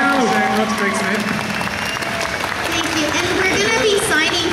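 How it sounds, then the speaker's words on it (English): A crowd applauds at a voice actor panel, a steady wash of clapping that holds loud for several seconds while voices talk over it. "can we please just have a huge thank you and a big round of applause, please?"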